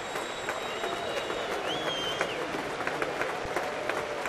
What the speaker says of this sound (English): They're giving him a big round of applause, a standing ovation here at Safeco Field.